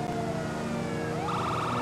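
A police car siren in the video game GTA 5 wails steadily over engine noise, then switches to a faster, pulsing yelp pattern partway through, loud and close with no one speaking.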